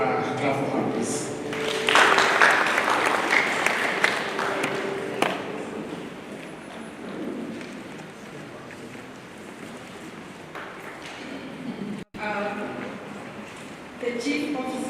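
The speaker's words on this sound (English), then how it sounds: "let's clap for her, please." Audience clapping for the board chairperson at a SACCO annual general meeting, uneven and mixed with hall noise, strongest early then fading, with voices talking through much of it.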